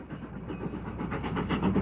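A played audio example of a train running, a dull, muffled rumble with faint rhythmic clatter lasting under two seconds, heard alone without talk.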